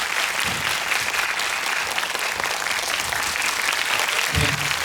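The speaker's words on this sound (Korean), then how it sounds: "한 박수 부탁드리겠습니다." Audience applause fills the hall at a Busan International Film Festival screening Q&A, a dense, sustained clapping from a large crowd that stays steady throughout.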